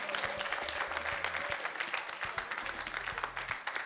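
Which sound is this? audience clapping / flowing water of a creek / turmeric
audience clapping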